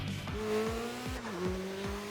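A Mazda RX-7 with a rotary engine races in Tokyo Xtreme Racer (2025), its engine revving up and dropping through several quick gear shifts in a rhythmic pattern, loud and close, with a faint tire squeal.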